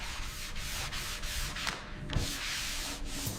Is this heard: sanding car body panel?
yes